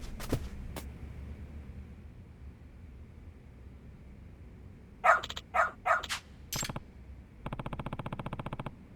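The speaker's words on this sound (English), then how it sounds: "Good dog. Very good dog." A dog in the video game Lost Judgment lets out a few sharp barks in a quick cluster midway through, over a low hum of background ambience. A rapid electronic chatter follows near the end.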